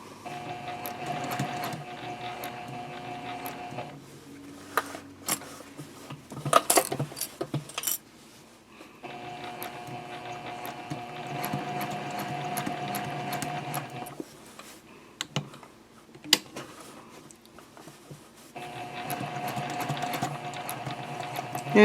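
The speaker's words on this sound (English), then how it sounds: "you can finish sewing all the way to the top" A sewing machine stitches an elf Christmas stocking in three long, steady whirring runs, each separated by pauses with small handling clicks.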